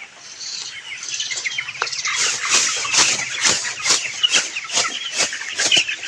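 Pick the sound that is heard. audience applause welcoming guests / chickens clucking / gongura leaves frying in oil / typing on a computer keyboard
chickens clucking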